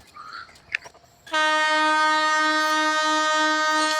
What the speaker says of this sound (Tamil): ஹாரன் சத்தம் வேறு கேட்குது ட்ரெயின் வரப்போகுது